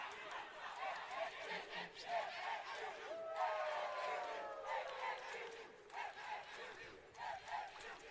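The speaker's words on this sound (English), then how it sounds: "I'm literally here sitting in silence listening to the teams cheer." Archery teams cheering at a collegiate target championship, rhythmic group shouts and chants in the middle distance, rising and falling in bursts with background chatter.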